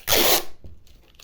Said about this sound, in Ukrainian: не лякайтесь, це звук скотча